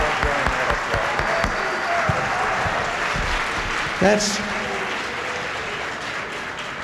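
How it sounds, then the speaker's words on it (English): Audience applause during a presidential visit to Roxbury, Massachusetts: steady crowd clapping that runs throughout, with a voice speaking over it partway through. "I will join that applause."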